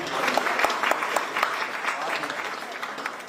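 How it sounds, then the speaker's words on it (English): A mayor's breakfast audience gives a round of applause for a catering service, a full steady patter of many clapping hands throughout, with some voices mingling underneath. "let's give one more round of applause to Masala Waves for their service this morning and for their food"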